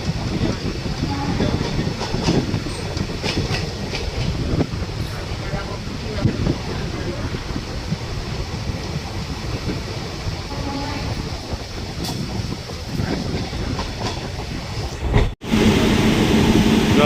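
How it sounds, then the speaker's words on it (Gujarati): An electric train at a platform of Porbandar railway station rumbles steadily nearby with a continuous low mechanical drone and faint clatter, ending in a sudden brief thump and cutoff. "પોરબંદર ઉગેવા રેલવે સ્ટેશન પ્લેટફોર્મ ઉપર ઉભો એવા ટ્રેનો પોરબંદર ઇલેક્ટ્રિક"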